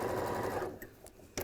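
Close, loud whirring of a sewing machine stitching a tee or tote bag, running steadily then easing off into a few light clicks.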